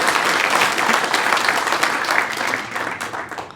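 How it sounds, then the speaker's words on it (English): A large audience at a TCGplayer seller gathering at GAMA 2018 claps for the company's founder and CEO, a dense, loud, continuous burst of applause that holds steady and eases slightly toward the end. "Please, let's give a round of applause for Chedy Hampson."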